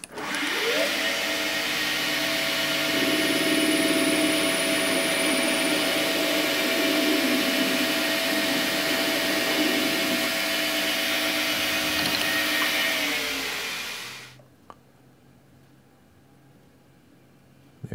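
A metal lathe facing off the end of a steel part while making a chuck key, a loud, steady whirring hum with a sustained tonal whine for about fourteen seconds before the machine spins down to near silence.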